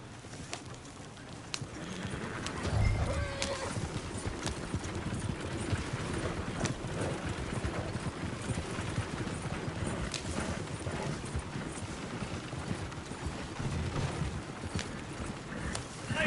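Horse hooves clip-clop steadily through the whole stretch in Red Dead Redemption 2 as the mount heads out through trees, a continuous mid-level rhythm with faint birdsong in the background.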